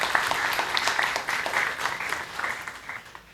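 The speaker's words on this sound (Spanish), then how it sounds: "Un aplauso al compañero José Lazo." An audience at a university talk in Panama claps steadily for a few seconds, the dense applause gradually thinning and fading toward the end.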